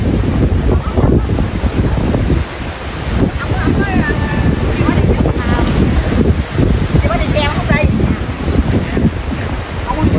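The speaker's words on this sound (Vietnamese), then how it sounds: "chỗ này gió mát quá rồi" Strong gusty wind at a Buddhist temple roars loudly and continuously across the microphone, with people talking faintly underneath throughout.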